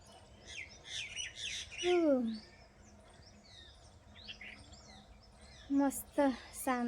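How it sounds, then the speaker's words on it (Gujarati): Sparrows chirp and tweet nearby, with a few louder sweeping parrot calls and squawks standing out against a quiet background. "એકદમ મસ્ત ચકલા બોલે છે પોપટ બોલે છે"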